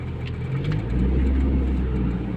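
Engine of a 1991 Mitsubishi Galant Royal with a five-speed manual gearbox on a test drive, a low steady rumble and drone from inside the car, rising slightly in the middle.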